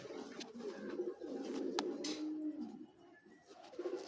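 A black racing pigeon gives soft, low coos close by, quiet and rolling over a faint background with a few small clicks.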